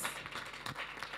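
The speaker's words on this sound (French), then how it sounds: "On applaudit Cécé, on applaudit Lily à nouveau." An audience applauds in a studio: dense, steady clapping throughout a brief moment, with no voices on top.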